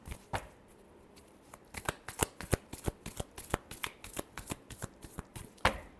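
Tarot cards shuffle by hand at close range, a rapid run of sharp riffling flicks and slaps in irregular bursts, heard without any talking.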